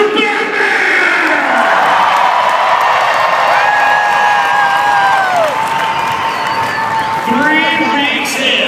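Arena crowd at a Monster Jam truck rally in Sacramento roaring and cheering for the Batman truck, a dense continuous wall of shouts and whoops under an announcer's amplified voice.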